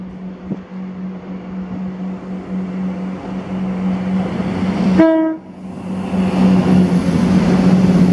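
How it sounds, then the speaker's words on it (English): A ScotRail passenger train on the Inverness to Edinburgh service rumbles past nearby with a loud, steady roar, a short two-tone horn blast near the middle, and the running noise continuing afterward. "this was 1B44, the 2024 ScotRail service to Edinburgh from Inverness"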